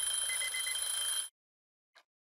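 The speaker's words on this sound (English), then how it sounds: "Every alarm just went off at once?" Many alarms in the video game Escape First going off together, a dense, steady electronic ringing that stops abruptly after about a second, followed by silence and one faint short chirp.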